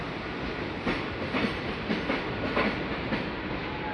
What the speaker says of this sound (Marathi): आणि ही कसारा लोकल